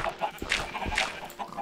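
Chickens in a coop in Minecraft, clucking in repeated short bursts at an even pace, close and clear with no voices.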